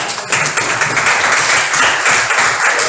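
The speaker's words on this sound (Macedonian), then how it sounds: "Ајде аплауз! Ајде аплауз!" Applause from an audience at a school history project event in Skopje, a dense steady wash of many hands clapping, loud and close, filling the whole moment without pause.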